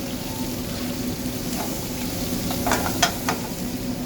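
Mushrooms browning in a hot pan for shrimp scampi give a steady, close sizzle, with a few brief scraping stir sounds near the end and no talking.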